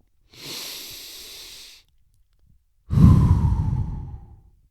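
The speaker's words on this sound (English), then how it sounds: "Deep breath." A single deep breath, taken close and alone: a long airy inhale, a short pause, then a heavier, louder exhale that trails off like a sigh.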